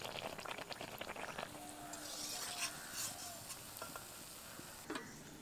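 Malpua batter frying in hot oil, a steady soft sizzle and crackle with occasional stirring clinks, heard close and fairly quiet with no talking.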